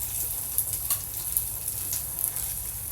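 Tofu (tahu aci) fries in hot oil in a home kitchen, a steady close crackling sizzle with small pops throughout and no talking.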